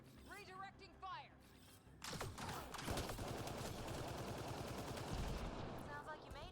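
Gunfire in the video game Mass Effect: Andromeda, rapid bursts of shots with clicking mechanical weapon noise, a voice heard briefly early on.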